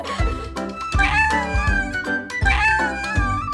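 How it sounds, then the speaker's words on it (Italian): Cartoon kittens meow in a busy cluster of repeated high cries, loud and close, layered with musical backing tones. "Abbiamo trovato tutti i gattini!"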